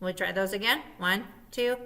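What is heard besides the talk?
No everyday noises stand out.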